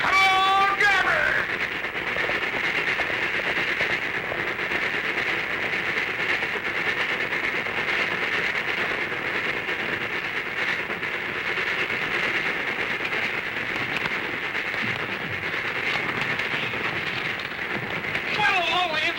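Steady rumble and rattle of a moving train from a 1939 Western, a continuous loud roar with a faint clatter, lasting the whole stretch, with brief voices at the start and end.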